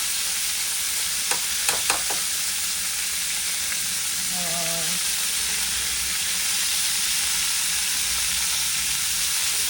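Ginger dropped into a hot pan for a royal-style cauliflower dish hisses in a steady, loud sizzle, with a few sharp clinks of utensils early on, then continuous frying with no voices.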